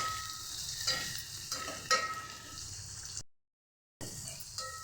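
Chopped onion with curry leaves is sautéed in a pan for Maharashtrian pithla, a quiet sizzle broken by a few stirring scrapes, then a short silence before the frying resumes.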